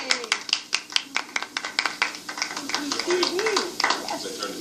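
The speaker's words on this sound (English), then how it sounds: "they have crowd noises" Crowd noise with rapid scattered clapping and overlapping voices and cheers, fairly close and lively throughout.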